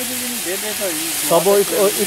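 White charsi mutton fries in a pot over a lowered flame, giving a steady bright sizzle and hiss throughout while someone talks over it.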